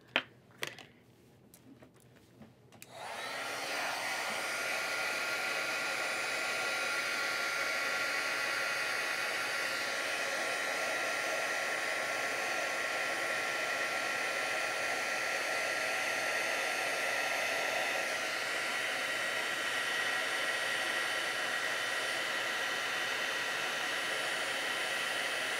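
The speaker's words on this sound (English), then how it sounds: "I'm going to be using my Wagner heat tool today as well" A Wagner heat tool used for cardmaking switches on after a few light clicks and taps, then blows with a steady, even hiss of rushing air, close and continuous for over twenty seconds.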